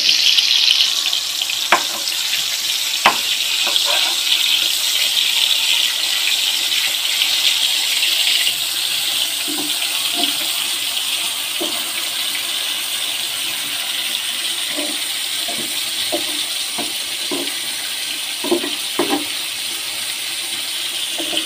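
Marinated food crackles in hot oil, a loud, sustained hissing sizzle lasting throughout, with scattered clicks and scrapes of utensils against the pan.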